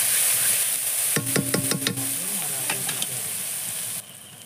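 Spices with turmeric and chili powder frying in a pan for a chicken recipe, a steady close sizzle with a run of quick stirring scrapes and clinks partway through, then the sizzle continues alone.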